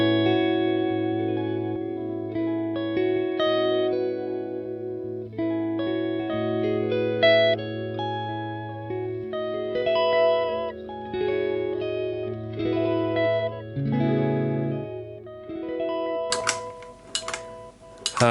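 Guitar notes run through a delay effect on a Neural DSP Quad Cortex, each played phrase trailing into repeating echoes and sustained ringing tones, ending with a few sharp percussive bursts.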